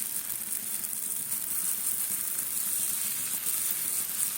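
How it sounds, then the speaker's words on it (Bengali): Uttapam batter sizzles on a hot pan over a low gas flame, a steady bright frying hiss that runs evenly throughout with no talking. "এবারে গ্যাসটাকে সিমে করব, তারপরে দেব ব্যাটারটা।"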